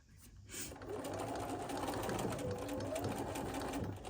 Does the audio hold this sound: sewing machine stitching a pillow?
yes